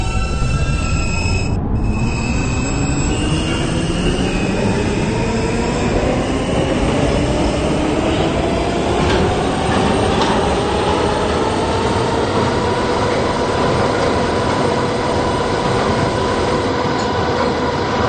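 An R160B subway car runs on a B train, its loud, steady rumble and rising, sweeping motor whine continuous throughout with faint wheel squeal on top.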